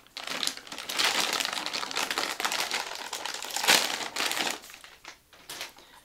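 Packaging of an EVGA GTX 285 Classified graphics card being unwrapped, a close, busy stretch of plastic and paper crinkling with rapid rustles and small taps that thin out toward the end.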